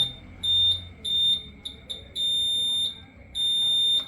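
A high electronic buzzer on a REHA TECH electric mobility vehicle for the elderly sounds in repeated beeps of uneven length, some short and some held, loud and close over a quiet background.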